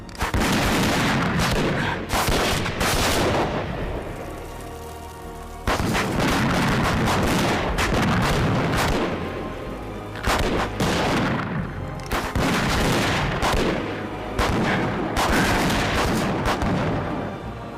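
Loud, dense gunfire from a sci-fi movie battle scene plays with heavy booming shots and rapid volleys, in continuous bursts separated by brief pauses.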